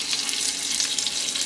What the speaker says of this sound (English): Dumping it in some flour, well, eggs and flour, frying it first, the first part of my chicken marsala